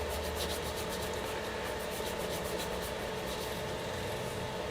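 Micro mesh abrasive, cut into small rolled squares, rubs back and forth across a replacement bass guitar neck on a P Bass, a steady close hissing scrape with a faint rhythmic pulse and no talking.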